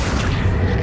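A brief, heavy booming burst from an Accio summoning spell cast in Hogwarts Legacy on PS5, loud and full-bodied for under a second.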